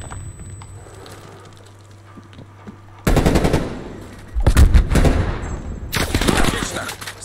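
Bursts of rapid automatic gunfire from a video game crackle loudly in three separate volleys after a quiet stretch, with a faint electronic hum beneath.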